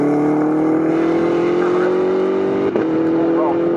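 GT race cars, a Honda among them, run at the Snetterton circuit with a sustained, rising engine drone, under continuous commentary.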